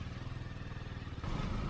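A motorcycle being ridden on a rainy day in Bengaluru with a passenger aboard, its engine thrumming in a quick even pulse close by, then opening up louder near the end.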